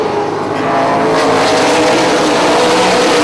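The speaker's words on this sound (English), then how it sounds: "one of those cars didn't sound healthy" A super late model race car engine roars loudly and continuously on a racetrack, with other cars running nearby and the motor sounding rough and unhealthy.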